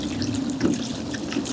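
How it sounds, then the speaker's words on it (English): Rinse water pours into an off-grid laundry washer, a steady close splashing and trickling stream running without a break, with no voices. "and add our rinse water"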